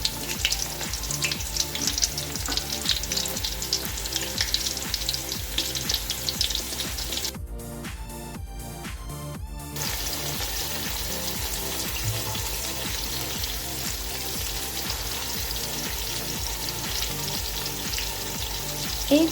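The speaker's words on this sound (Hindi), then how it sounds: "ये हमने प्याज इसमें डाल दिया।" Chopped onions fry in a pan for khichri, a loud continuous sizzle and crackle close by, with a short break of quieter stirring before the frying noise returns.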